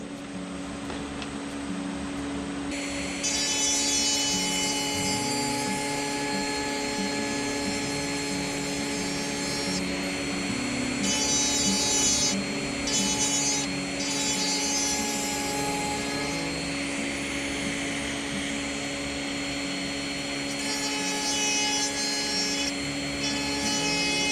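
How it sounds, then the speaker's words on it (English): A high-speed rotary tool fitted with a tiny flame burr carves the fins of a wooden rainbow trout, its thin steady whine running continuously with the pitch dipping briefly as the burr bites into the wood. "Now I'm going to put this tiny flame burr on here and kind of widen them out."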